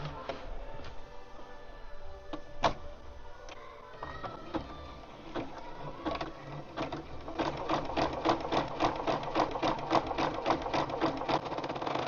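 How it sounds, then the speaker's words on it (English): A sewing machine stitches a fabric-wrapped cording rope bowl. After a few scattered clicks and bursts, a fast, steady run of close, rhythmic needle strokes builds up, with no speech. "I'm going to go back a little ways just so I'm still on the stitches that I did before I cut the thread."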